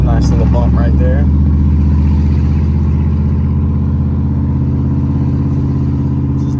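A vehicle drives along a patched-up back road, its steady engine rumble loud and close throughout, with brief voices and clatter near the start.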